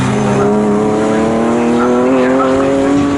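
The number 52 race car in an MSVR All-Comers race at Snetterton screams past with a loud, sustained engine note that climbs steadily in pitch, close and dominant over the trackside noise.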